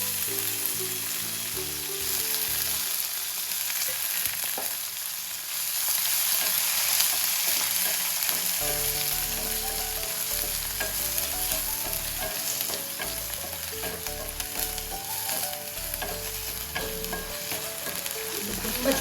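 Onions frying in hot tempering oil with mustard seeds, cumin, dried red chillies and curry leaves, a close continuous sizzle with spoon scrapes and stirring clatter throughout, no voices.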